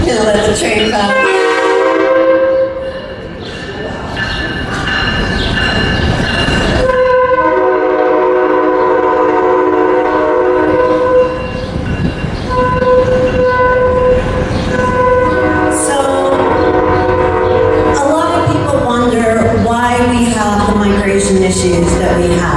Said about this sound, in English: I'm gonna let the train pass.